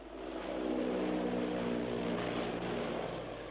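A CL-215 water bomber flies over during the 1994 New South Wales bushfires, its propeller engines giving a steady, loud, droning roar that holds level for several seconds with no voices.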